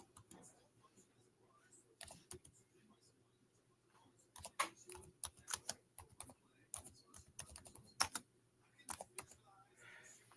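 Typing on a computer keyboard: bursts of quick, close key clicks in irregular runs with short pauses between them, fairly quiet overall, and no voices.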